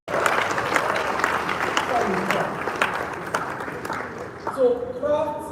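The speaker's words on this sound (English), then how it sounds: "Let's so clap for yourself for how far you come with your business." An audience at a business talk in a hotel applauds in a dense, sustained wash that tapers off near the end as a voice comes back in over it.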